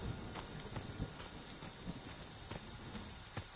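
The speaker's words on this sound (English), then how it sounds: "It's raining" Steady rain falls as a dense hiss with scattered sharper drops and taps on a surface, continuous and moderately faint, with no voices.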